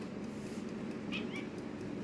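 Isabella, a pet cat, gives a short, faint meow indoors at night, a single brief call over low room noise.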